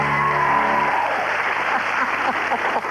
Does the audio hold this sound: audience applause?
yes